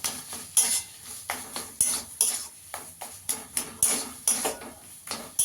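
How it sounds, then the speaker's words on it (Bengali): A spatula scraping and stirring cauliflower and potato curry in a metal pan while it cooks down until dry, with repeated clinks and scrapes at an irregular rhythm, close, with a faint sizzle beneath. "ভালো করে খুন্তি দিয়ে একটু ঘেটে ঘেটে দিতে হবে।"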